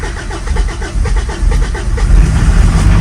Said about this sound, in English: Fire up the glow plugs, warms up the diesel.